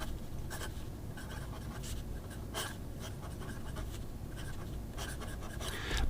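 Fountain pen with an 18 karat Delta nib writing in a Dingbats journal: faint close scratchy strokes in short bursts over steady low background hiss, no voices.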